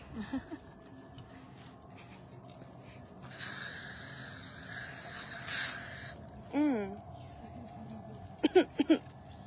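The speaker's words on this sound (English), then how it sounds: "heading over for another bug spray break." A hissing aerosol bug spray bursts for about three seconds, with quiet voices and short vocal sounds before and after it.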